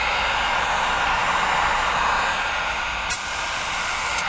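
A handheld dryer blows a steady, airy hiss over printed paint on a casing, continuing at an even level with a brief sharp click near the end, with no talking.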